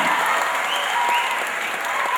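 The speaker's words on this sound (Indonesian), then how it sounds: "Tepuk tangan dulu yang mulia buat tamu kita." Continuous crowd applause for a guest performer at a high school event, dense and even throughout with no break.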